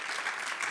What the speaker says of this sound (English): Let's give a round of applause for Marvin.